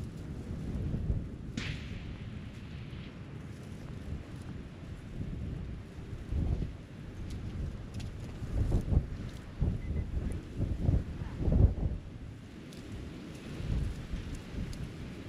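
Steady rain with rolling rumbles of thunder and gusting wind over an open ranch range during an NRL Hunter 2024 rifle match, a dense, fairly loud wash that swells and surges in the second half, with no voices.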